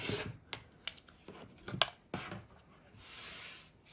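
Curved quilt fabric blocks are trimmed and squared up, producing faint, close, irregular clicks and short cutting scrapes in a quiet room with no talking.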